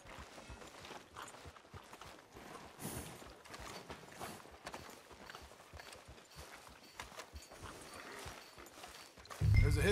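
Horse hooves clip-clop at a walking pace in the Red Dead Redemption 2 video game, an even run of soft hoofbeats over faint town ambience, with a louder thump right at the end.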